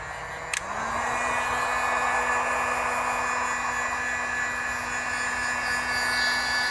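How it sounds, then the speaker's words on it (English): A heat gun blows on heat shrink tubing over a circuit during a gun laser repair: a click, then a loud, steady, close whirring blast of air with a faint hum that continues without pause. "And I'm gonna now heat shrink this thing."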